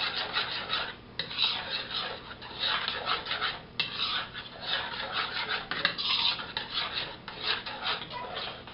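A spoon stirs chopped fruit into yogurt in a bowl, producing soft, continuous wet scraping and rubbing strokes, close by and uneven in rhythm.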